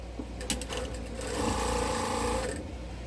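A sewing machine runs close by as it stitches quilt strips together, a brief start followed by a steady mechanical whir lasting a couple of seconds before it stops, with no voices.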